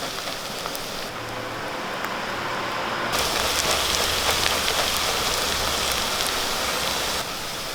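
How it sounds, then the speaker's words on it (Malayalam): Curry leaves dropped into hot oil for a fish curry set off a dense, crackling sizzle that grows louder and busier partway through, heard close up with no voices. "ഇതിലേക്ക് രണ്ട് രണ്ട് കറിവേപ്പില ഇട്ട് കൊടുക്കാം"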